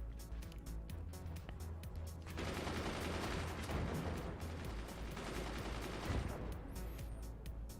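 Mortars firing in the video game Forts, a dense, sustained burst of rapid thudding shots and mechanical clatter swelling for several seconds before easing off, fairly quiet overall with no talk.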